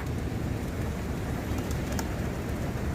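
Pigeons coo continuously in a rooftop garden over a dense, steady rumble of background noise, with a few faint higher chirps.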